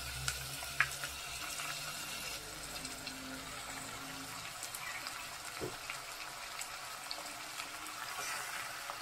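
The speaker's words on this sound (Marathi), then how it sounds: "कांदा आणि तेजपान टाकलं आणि याच्यावर हा मटण टाकते" Mutton sizzling in a hot pan with onion and bay leaves, a steady, soft frying hiss with faint crackles running throughout, close and alone with no talk.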